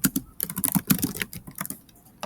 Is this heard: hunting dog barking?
no